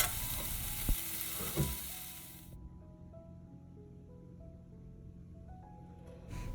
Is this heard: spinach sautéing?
yes